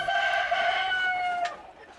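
Foreign-breed chickens at a Bagerhat poultry farm give a loud, drawn-out call lasting about a second and a half before fading, alone without talk.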